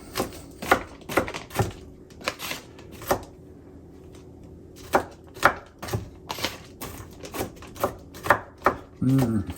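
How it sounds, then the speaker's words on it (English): A knife coarsely chops ginger and garlic cloves on a board, giving sharp, close knocks in uneven bursts with a short pause partway through. "So I do a coarse chop of the ginger, a coarse chop of the garlic cloves"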